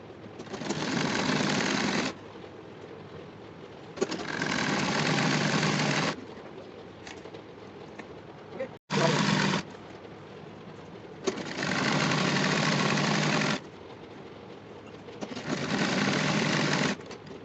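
A sewing machine stitching a salwar: steady whirring runs of about two seconds each, repeated several times with short pauses between, close and clear, no talk.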